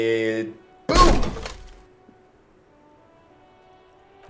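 A heavy door in Disco Elysium is kicked in: one loud cracking thud with a splintering crunch, fading into a quiet hum, with a short music tone just before it.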